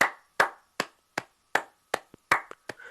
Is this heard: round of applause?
yes